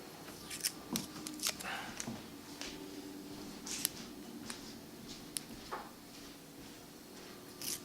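Scissors snip through protective film on acrylic during a DIY air quality meter build, giving scattered sharp cuts and rustles at close range, faint in a quiet room.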